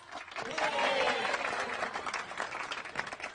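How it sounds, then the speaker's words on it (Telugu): Clapping from a group of friends celebrating a couple's love success, a burst of hand claps that swells and then tapers under a noisy crowd, with voices talking over it. "క్లాప్స్."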